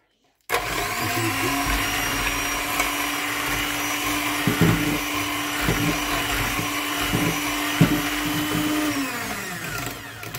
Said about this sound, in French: Toujours faire attention à la cuillère qu'elle se prenne pas dans le mixeur.